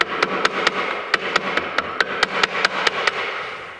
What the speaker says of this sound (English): I'm going to take a screwdriver and a hammer, and I'm going to tap these out